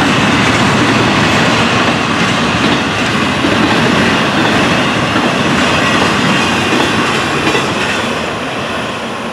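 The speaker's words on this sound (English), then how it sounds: "Now, piggybacks to round this train out." A Florida East Coast Railway freight train carrying piggyback trailer cars rolls past close by, a loud, steady roar of wheels and rumbling cars that fades slightly toward the end.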